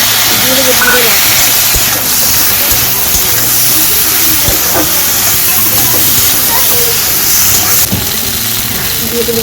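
Cumin paste hits a hot pan while cooking a curry of okra, potato and mourala fish, giving a loud, broad sizzling hiss that holds steady for several seconds, with a few clinks and a voice speaking over it.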